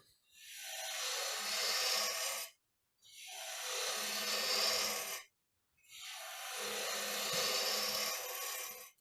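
A woodturning gouge cuts into a rounded-bottom wooden box spinning on a lathe, making three long, close, hissing shaving passes separated by short silent pauses.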